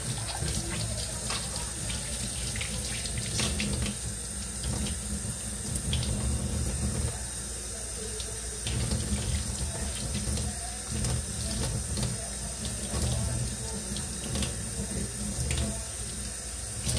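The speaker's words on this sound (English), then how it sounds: "I'm gonna rinse my hands out so that I can touch my seasoning bottles." Tap water runs steadily into a kitchen sink while hands are rinsed under it, a continuous close splashing rush with no talk.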